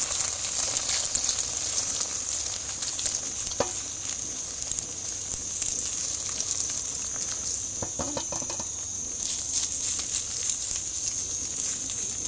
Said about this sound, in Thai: ทอดแบบฟู